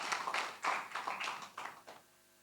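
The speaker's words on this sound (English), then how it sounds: "Please, can we give them a round of applause?" Sparse, quiet clapping from a conference audience at a gas measurement panel session, scattered claps tapering off within a couple of seconds.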